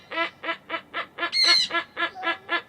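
A large bird gives a rapid series of about ten loud, harsh goose-like honks at an even pace, close by and clear, with one higher, shriller scream in the middle.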